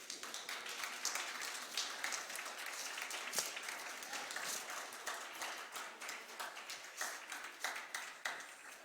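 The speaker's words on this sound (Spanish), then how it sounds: "¿Quiénes le dan un aplauso al Señor?" A church congregation applauds, with dense, sustained clapping filling the room for the whole stretch and a few louder claps and faint voices mixed in.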